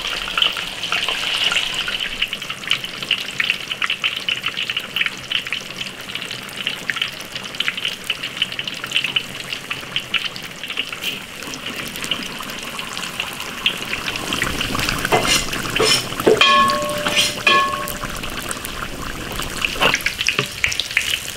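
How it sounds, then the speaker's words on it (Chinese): Tofu deep-frying in hot oil in an iron wok, a steady dense crackle and bubbling hiss that stays loud throughout, with sharper popping bursts late on; no voices. "七成油温炸豆腐， 把豆腐的表皮给它炸熟"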